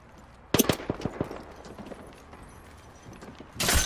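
Gunfire in the console shooter Apex Legends, with Wraith using an EVA-8 or Mastiff: a quick burst of several sharp shots in a row, then a lull, and another loud blast at the end.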